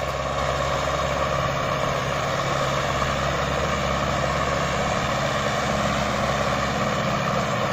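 Swaraj 855 or Sonalika DI 55 tractor engine under load in a pulling demonstration: a loud, steady diesel drone with a deep rumble and constant pitch, running alone without talk.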